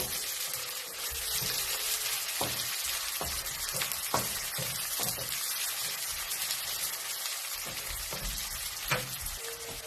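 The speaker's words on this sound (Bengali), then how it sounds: "এখন আমি এক এক করে বাকি মশলাগুলো দিতে থাকবো আর এভাবে পেঁয়াজ ভাজতে থাকবো" Onions frying in a pan as spices go in one by one for a prawn bhuna, a continuous close sizzle with scattered scraping stirs and occasional sharp ticks throughout.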